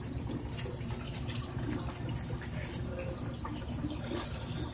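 Water runs continuously over the bare roots of a plant in a small flowing-water setup, a faint, steady trickle and splash with a low background hum.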